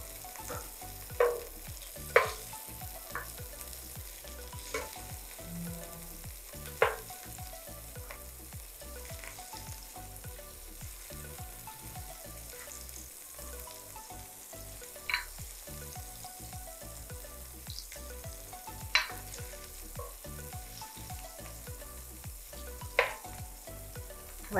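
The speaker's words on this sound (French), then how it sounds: "on va faire revenir du beurre. On va attendre que le beurre fonde" Butter melting in a pan makes a continuous fine sizzle and crackle, with occasional sharp pops and spatula clicks over steady frying noise, close and moderately loud, without speech.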